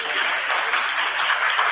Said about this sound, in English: we'll give her a round of applause again.